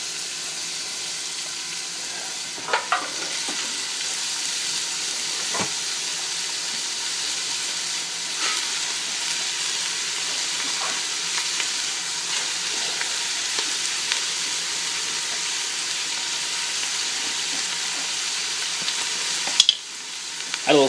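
Vegetables sauté in hot extra virgin olive oil for a lasagna filling, a steady close sizzle with occasional stirring clinks and scrapes and no talk.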